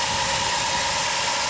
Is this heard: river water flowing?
no